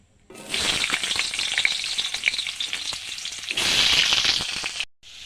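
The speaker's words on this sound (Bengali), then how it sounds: "আলুগুলো ভেজে নেবো লাল লাল করে" Potatoes fry in hot oil until reddish, with a loud, continuous sizzle and crackle. It swells again near the end as the pieces are stirred, then breaks off abruptly.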